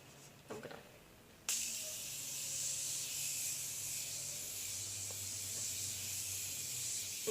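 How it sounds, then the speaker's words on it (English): A steady hissing spray of Morphe Continuous Setting Spray starts abruptly and continues for several seconds, close and fairly loud, after a couple of soft clicks. "I'm gonna take the Morphe Continuous Setting Spray."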